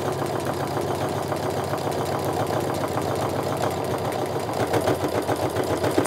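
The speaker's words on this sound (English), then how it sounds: "Now I'm just going to sew my quarter inch seam all the way down." A sewing machine runs steadily while stitching a quarter inch seam down a tote bag, producing a close, continuous rapid mechanical whir and needle clatter that grows slightly louder toward the end.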